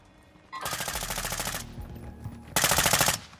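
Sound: M4 rifle gunfire in Warzone 2.0 video game

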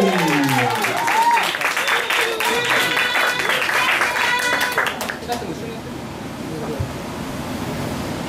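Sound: audience applause for dance performance

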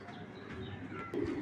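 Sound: racing pigeons cooing

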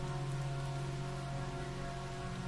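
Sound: rain falling on soil

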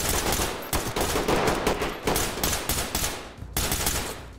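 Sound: gunfire hitting player in Ready Or Not video game

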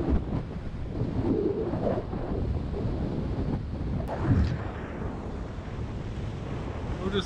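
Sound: wind blowing on a rocky seashore

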